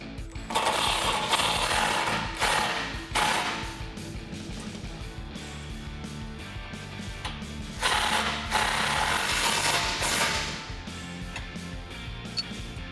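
Ratchet or power tool tightening 17 mm nuts on a 2016-2021 Toyota Tacoma rear bumper install, a loud continuous mechanical whirring and clicking with slight surges, close by and without talk.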